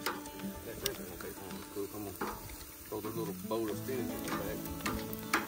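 Wild boar and catfish sizzle and fry on an outdoor grill, a steady crackling hiss running through the whole stretch with occasional sharper pops, while people talk nearby over it.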